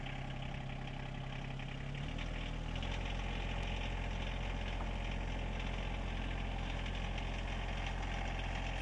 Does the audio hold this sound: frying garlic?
no